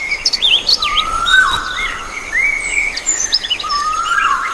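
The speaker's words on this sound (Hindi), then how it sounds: "पत्ते हिले, पक्षी चहकने लगे" Birds chirp in a forest, several high, quick twittering calls and trills overlapping across the clip, moderately close, with a faint insect hum beneath and no voices.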